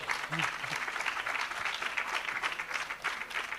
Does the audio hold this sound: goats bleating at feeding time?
no